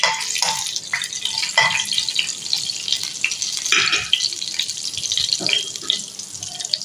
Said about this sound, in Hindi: और इसको हम थोड़ा सा तड़क लेंगे।